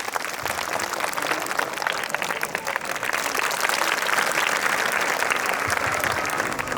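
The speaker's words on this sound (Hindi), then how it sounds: "तो जोरदार तालियों के साथ उनका स्वागत कीजिए" A school audience at an art-in-education workshop gives dense, steady applause to welcome the school theatre group. It is sustained and fairly loud throughout, with many hands clapping together and no talk over it.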